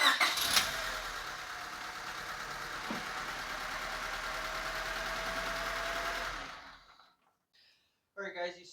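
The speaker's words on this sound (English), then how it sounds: "I'm going to try starting the car, and we're going to see if we get a spark from the spark plug" A 1996-2000 Honda Civic engine cranking on the starter, a steady, even churning drone that runs for several seconds before cutting off, followed by a short voice.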